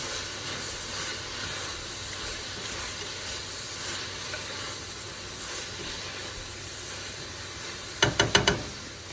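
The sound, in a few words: ground turkey and vegetables sizzling while being mixed in pot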